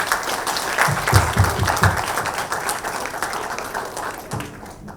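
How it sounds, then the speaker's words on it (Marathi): An audience at a women's awards event applauds a film logo, a dense burst of clapping from many hands that swells early and then tapers off over several seconds. "या लोगोसाठी एक सगळ्यात पहिल्यांदा टाळ्या झाल्या पाहिजे"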